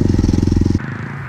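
A Kayo 250 motorcycle engine revs hard with a rapid pulsing roar during wheelie practice, then the throttle drops back to a lower, rougher idle.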